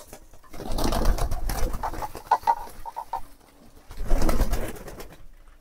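Several domestic pigeons coo after a feeding of paddy, throaty calls rolling in two louder waves with a quieter stretch between, close by and with no talking.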